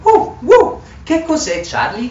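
A toy dog gives two quick, bright yips, and then someone speaks in Italian.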